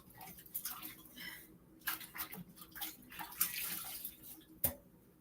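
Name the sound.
washing hands under running tap water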